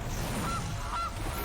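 A cartoonish goose honk sounds in the MTG Arena digital card game, two short nasal honks a half-second apart over a low steady background hum.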